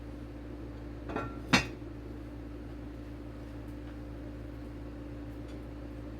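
A lid goes onto a Dutch oven of lima beans with a soft knock and then one sharp metallic clank. A steady low hum runs underneath throughout.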